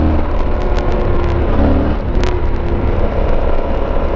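A Yamaha Tenere motorcycle being ridden with the rear brake tested, loud steady engine rumble and road noise with a brief higher-pitched burst partway through, no talking.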